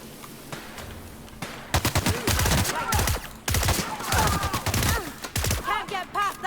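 Gunfire in The Outer Worlds crackles as dense rapid bursts of shots, loud and close, mixed with creature cries and other game sounds, with no clear talk.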